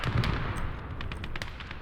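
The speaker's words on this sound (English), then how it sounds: "Looks like there were some nice explosions going off over there." Distant artillery explosions in the World War II strategy game Call to Arms: Gates of Hell, a low continuous rumble of blasts with scattered sharper bangs over about two seconds, fairly faint.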